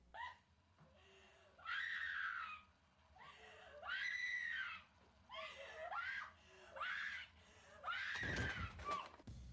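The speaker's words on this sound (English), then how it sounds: "one of the group members screams in the background" Repeated high-pitched screams in a found footage horror film, several sustained bursts rising and falling over a low background rumble, with a sharp louder burst near the end.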